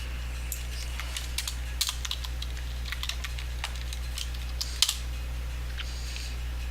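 Typing on a computer keyboard, a run of light, irregular key clicks with a few sharper taps, close and fairly quiet over a steady low electrical hum, with no talking.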